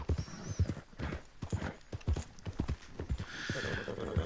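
A horse gallops in the video game Red Dead Redemption 2, with rhythmic clip-clop hoofbeats close and steady throughout and faint background sounds under them.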